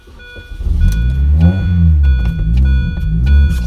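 The engine of an R53 JCW Mini Cooper, parked in neutral in a garage, turns over and catches. It settles into a loud, steady, close rumbling idle with small fluctuations.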